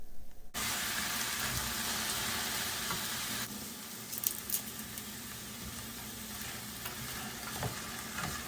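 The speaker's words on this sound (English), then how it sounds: "It's time to also add 4 cups of pre-soaked black beans to the pan" Soaked black beans tipped into a pan of pork stock, a steady loud sizzling hiss that drops in level partway through and settles into a softer simmering crackle with occasional small pops.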